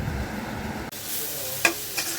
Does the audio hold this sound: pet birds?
no